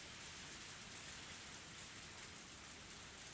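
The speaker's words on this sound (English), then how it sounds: "the heavy rain started pouring down" Heavy rain pours down in a downpour in the Higurashi When They Cry game, a dense, even hiss of rain beating the ground, steady and continuous, fairly quiet, with no voices.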